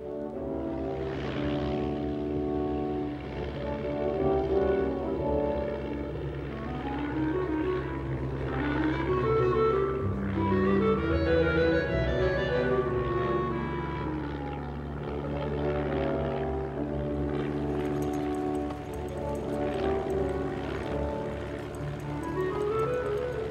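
A propeller airplane drones steadily and loudly with a continuous engine hum that swells slightly, heard alone for over twenty seconds with no talk.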